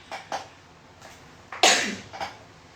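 A single sharp human sneeze, loud and close, preceded by a few small breathy sounds and sniffs, with a soft exhale afterward.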